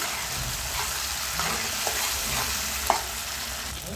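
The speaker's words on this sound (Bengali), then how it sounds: "একসঙ্গে ভেজে নেবো টমেটো পেঁয়াজ শুকনো লঙ্কা" Tomato, onion and dried red chillies fry together in a pan with a steady, close sizzle, broken by a few light stirring clicks.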